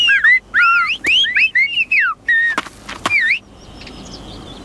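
A gopher in a children's story whistles in a quick series of bright, swooping chirps and warbling up-and-down tones, loud and close, with short gaps between phrases before fading into quieter background.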